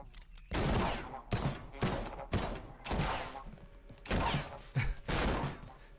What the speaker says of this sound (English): Jesus, that gunshot.